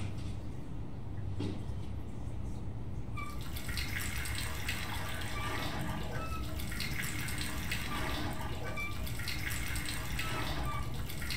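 Steady rushing spray of a shower running in the sci-fi horror video game Soma, starting quieter then swelling into a loud, continuous hiss of falling water with no talk.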